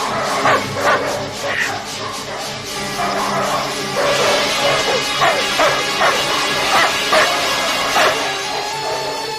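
Several dogs bark and yip in a loud, busy burst, with whimpers mixed between sharp repeated barks over a dense background, close and continuous throughout.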